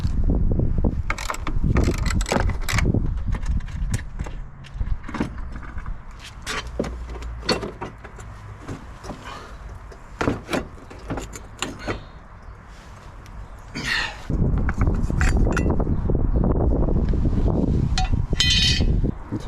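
Car front suspension strut being dropped out from the subframe area, with repeated close metallic clunks, knocks and scraping clatter of parts shifting, plus a heavier rumbling stretch near the end; no talking.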